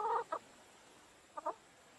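A chicken clucks close by in quiet surroundings: a quick pair of clucks, a long pause, then another short double cluck.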